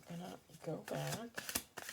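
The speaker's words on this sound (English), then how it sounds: "I'm going to do 2 more shuffle throughs." A deck of playing cards is shuffled by hand in a series of quick riffling bursts, heard close up and growing busier toward the end, with a voice talking over much of it.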